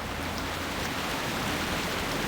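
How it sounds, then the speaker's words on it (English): Steady rain falling in the World of Warcraft game world near Agamand Mills, a continuous broadband hiss of drops with no talk over it. "all of a sudden, I do believe it was raining."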